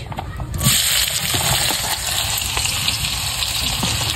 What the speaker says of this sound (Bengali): তো এখন দিয়ে দিচ্ছি পেঁয়াজ।